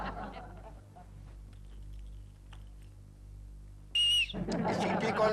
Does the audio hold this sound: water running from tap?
no